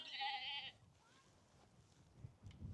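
Sheep bleat on an open hillside of West Lomond Hill, one clear bleat at the start followed by faint rustling and wind-like outdoor noise, with a few low thumps near the end; no one speaks.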